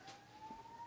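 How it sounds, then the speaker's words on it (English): A siren wails faintly outside, a thin steady rising tone, distant and low under the room's quiet. "Oops, siren."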